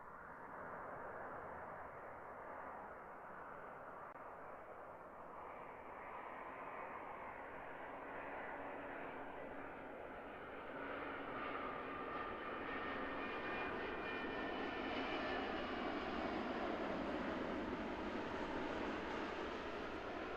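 A jet airliner roars steadily on approach to land at Christchurch Airport, its engine noise swelling and brightening as it draws nearer, with no voices present.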